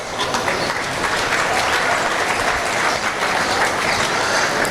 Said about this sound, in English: Let's give our market barrel exhibitors a big round of applause.